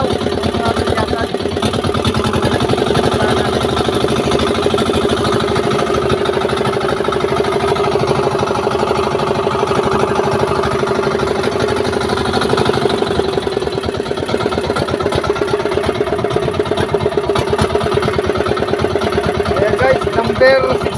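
A fishing boat engine runs steadily at close range with a continuous droning hum while out after skipjack tuna; voices talk over it.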